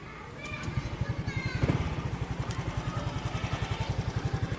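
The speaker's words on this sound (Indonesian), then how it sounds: "Ini dia untuk suara mesinnya." A 2023 Yamaha Gear 125cc scooter engine idles close by with a steady, rapid putter, joined briefly by a faint click and some soft background noise.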